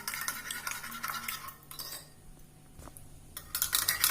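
Eggs seasoned with salt and black pepper are whisked in a bowl, quick clinking taps of a utensil against the sides in uneven bursts, pausing briefly midway before a final flurry of rapid strokes, close up.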